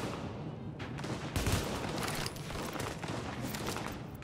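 Sustained gunfire from The Division video game at the Broadway Emporium, a dense, continuous volley of sharp shots layered over a loud, busy battle background.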